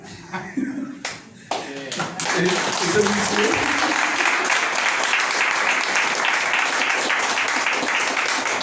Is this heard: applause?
yes